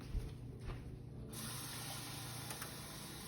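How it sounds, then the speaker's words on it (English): Water poured into a can of evaporated milk in a home kitchen, a steady close splashing pour that runs throughout without pause. "So I want to add about a half a cup more of water to that."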